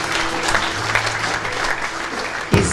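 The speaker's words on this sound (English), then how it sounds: "let's give him another round of applause" Audience applause at a World Philosophy Day event at St. Bonaventure University in Lusaka, Zambia, brisk, close clapping from a seated crowd filling the short stretch, with a soft thump near the end.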